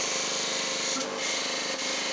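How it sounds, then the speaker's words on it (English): A P8000 line printer coming back online gives a loud, steady mechanical whir and rasp, close up and continuous, with brief shifts in tone partway through. "we're going to bring the printer back online"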